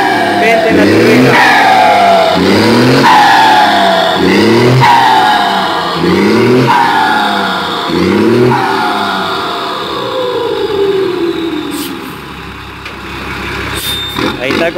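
A Volkswagen engine fitted with a Garrett turbo and a semi-direct exhaust revs hard in a series of repeated rising and falling bursts, loud and close, then settles into a fading whine as the revs drop.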